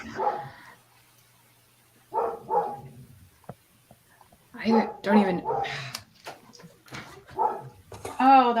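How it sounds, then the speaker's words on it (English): A dog barks in a few close, loud bursts mixed in with people talking in a kitchen. "You just woke my dog up with your dog barking."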